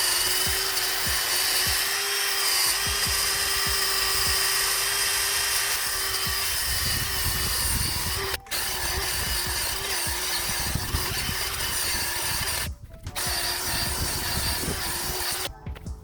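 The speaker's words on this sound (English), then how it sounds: "So I got this bit on the drill," A power drill with a wire-cleaning bit whirs steadily and loudly, grinding and scraping rust off a wheel bearing housing on an Infiniti G35 or Nissan 350Z, running continuously with a few brief pauses.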